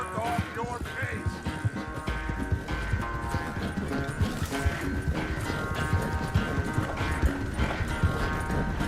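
Hooves clip-clop steadily under a music score, with a brief whinny, from the video game Red Dead Redemption 2, sounding like a game soundtrack mix.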